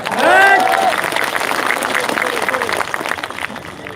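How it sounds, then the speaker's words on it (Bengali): A crowd at a political election rally applauds, with a steady wash of clapping and crowd noise. A voice calls out briefly over the start. "আমাদের মা বোনদের উদ্দেশ্যে একটু জোরে করতালি দেওয়া যায়"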